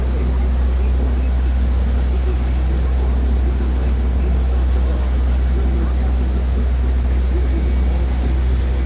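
A steady, low engine drone runs without a break, the constant rumble of a small boat's motor heard from on board, near Disney's Fort Wilderness.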